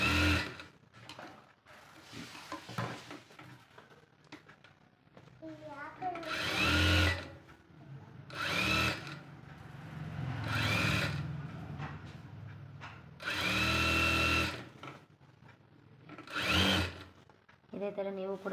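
A sewing machine stitching the back of a blouse with lining runs in several loud, close bursts of buzzing motor whir, separated by pauses where someone talks.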